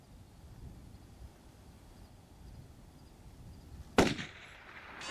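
A single sharp rifle shot at a target on a long-range shooting line cracks out loudly after a stretch of quiet wind noise, its report ringing and decaying briefly afterward.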